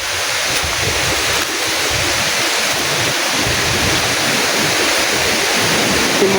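Stream flowing outdoors in a durian-growing area, a steady close rushing and splashing wash of water that fills the whole stretch without pause.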